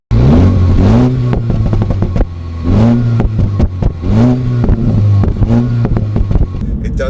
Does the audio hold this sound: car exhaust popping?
yes